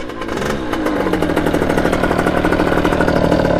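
A Kawasaki KX80 dirt bike with a big bore kit and rejetted carburettor runs close by. The engine rises from a low putter into a loud, steady, pulsing drone that holds to the end.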